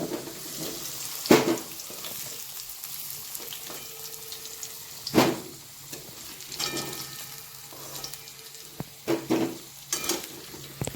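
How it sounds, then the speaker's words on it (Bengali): Potatoes frying in oil in a wok for a chicken curry, a soft continuous sizzle broken by several sharp scraping stirs and clatters of a spatula, no one speaking. "এবার দেখুন আলুগুলো ভাজা হয়ে গেছে এবার আলুগুলো তুলে নিচ্ছি"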